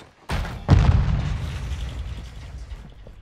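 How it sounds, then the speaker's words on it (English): A grenade detonates in the shooter video game Call of Duty: a sharp close blast followed by a second heavy boom that rumbles and decays over a few seconds, with no speech. "Grenade out!"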